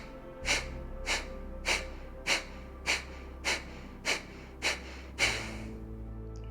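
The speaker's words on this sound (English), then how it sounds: "Sharp exhales." Nine sharp, forceful nasal exhales come in an even rhythm about every half second during a yoga pranayama breathing exercise, close and distinct, with quiet gaps between and no talk.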